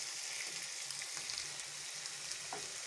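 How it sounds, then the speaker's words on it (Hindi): Onion and garlic paste frying in a pan for a chicken biryani, stirred with a spoon: a steady, dense sizzle runs throughout with faint scraping of the spoon, close and continuous, with no talking. "साथ साथ चम्मच चलाते जाना है ताकि ये जो हम प्याज और लहसुन है ये जले ना।"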